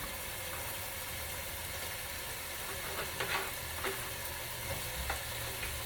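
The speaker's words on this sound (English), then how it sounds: "I'm going to go ahead and start adding my shrimp. No, I'll add my sausage. I'll cook my sausage down." Sausage sizzling in a pan while cooking down for a seafood paella, a steady dense frying hiss with a few brief scraping stirs near the end.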